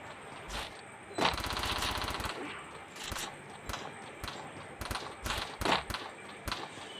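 Rapid M1887 shotgun blasts ring out in a mobile shooting game's training ground, a series of sharp, fairly faint bangs in irregular bursts with a short rattling volley early on, over low background sound.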